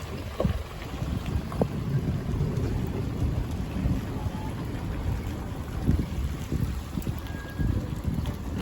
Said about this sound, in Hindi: बदल गरजन लगे हुए